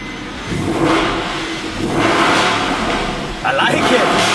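A Mercedes AMG C-Class engine revs and accelerates in loud surging waves, rising again near the end, while people talk inside the car.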